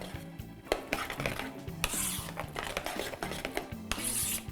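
A pot of pasta sauce with Italian spices and oregano is stirred, giving steady scraping and rubbing strokes of a utensil against the pan, close and moderately loud, with a few brighter clinks and no talk.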